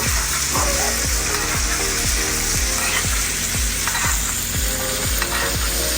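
Steaks sizzle and spit loudly in a cast iron pan with garlic and rosemary butter, a steady close frying hiss with regular clinking strokes about every half second as the butter is spooned over the meat, with no talk.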